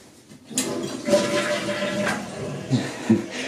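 A toilet flushes nearby with a sudden loud rush of water, then gurgling and swirling that keeps going, with a couple of clunks near the end.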